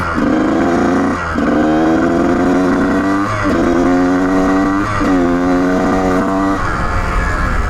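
A Kawasaki KX125 dirt bike with a freshly adjusted clutch rides a new track on a cold day, its loud engine climbing through three rising revs with brief dips at each gear shift.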